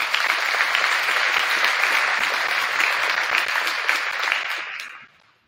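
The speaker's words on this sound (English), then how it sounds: "Please give these kids a round of applause." A crowd at a school awards night claps steadily and loudly for several seconds, then the applause quickly dies away into silence.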